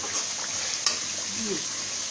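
Fried country chicken with skin goes into a pan of browned onions and spices, giving a steady, even sizzle with a brief clink of a utensil, while a voice speaks faintly.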